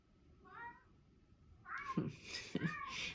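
Roy, a neighborhood cat, gives a soft meow followed by two louder, closer meows with brief breaths between, in a quiet room with faint background hiss.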